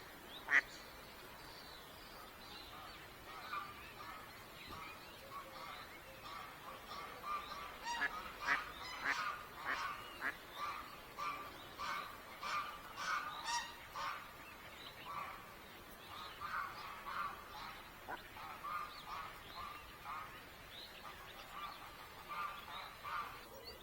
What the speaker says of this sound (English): Oh, duck's back.